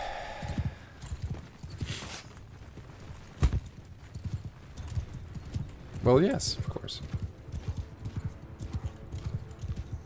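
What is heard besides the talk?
horses galloping in a video game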